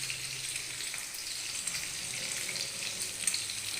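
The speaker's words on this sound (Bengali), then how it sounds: "আর এখানে আমি সিদ্ধ করে রাখা সোয়াবিনগুলো জল চিপে একেবারে মিক্স করে দিচ্ছি।" Boiled soybeans, squeezed dry of water, are stirred into a sizzling kadai of hot oil while cooking a potato and pointed gourd soybean curry, with a steady close frying hiss running throughout and no talking.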